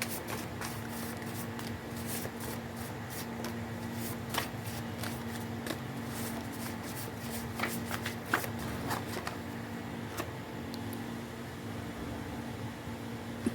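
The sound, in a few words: tarot cards being shuffled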